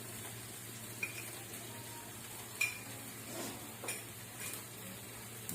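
Chicken coated in Malwani masala sizzles softly in a pan while being stirred, a faint steady frying hiss broken by a few sharp utensil clicks and scrapes.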